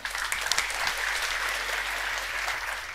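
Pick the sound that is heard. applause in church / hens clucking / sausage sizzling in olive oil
applause in church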